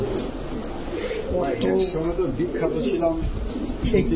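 Soft, low coos from large pigeons repeat under someone talking close by, with other bird murmurs in the background.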